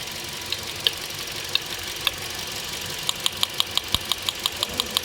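A Toyota Corolla engine ticks loudly at idle, a sharp rhythmic knocking that speeds into a quick regular clatter over a steady engine hum, close to the listener.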